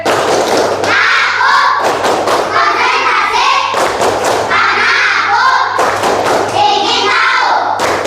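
Indonesian classroom of pupils doing a rhythmic clapping chant, loud group claps and thuds in bursts between short pauses, with children's voices chanting along.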